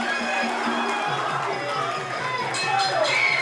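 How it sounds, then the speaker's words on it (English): Arena spectators at a Warriors Cup kickboxing bout cheer and roar in a dense crowd wash. The sound holds at an even, fairly loud level, with a few shouts and whistles standing out. "Crowd on their feet showing their appreciation for these two gladiators."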